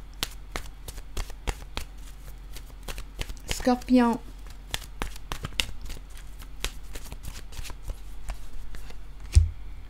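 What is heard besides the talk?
shuffling oracle cards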